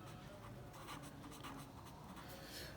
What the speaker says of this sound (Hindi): देखो इधर लिखते हैं हम